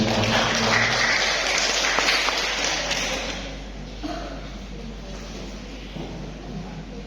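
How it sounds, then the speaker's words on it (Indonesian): An audience at an evening event claps for an upcoming drama performance, loud applause at first that fades after a few seconds into scattered taps and room noise. "Kasih tepuk tangan dulu ya, Romo."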